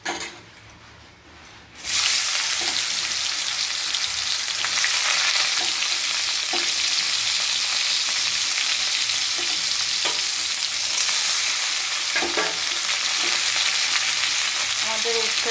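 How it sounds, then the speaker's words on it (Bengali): Bitter gourd frying in oil in a pan: after a quiet moment, a loud, dense sizzle bursts up and hisses steadily throughout, with occasional faint clicks of a utensil. "যাই উচ্ছেটা ভেজে নিই।"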